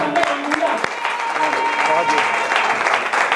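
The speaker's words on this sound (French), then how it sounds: "Acclamons le Seigneur Jésus-Christ." A church congregation applauds in steady, dense clapping. The applause runs throughout, with a few sharper claps near the start and voices mixed underneath.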